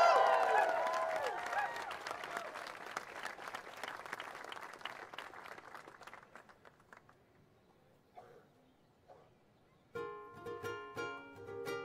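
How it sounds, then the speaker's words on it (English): Big, loud applause from an audience at a live show, dense clapping that gradually thins and fades over several seconds before music comes in at the end. "When you make applause for the keiki,"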